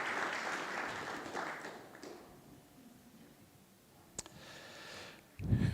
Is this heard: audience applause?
yes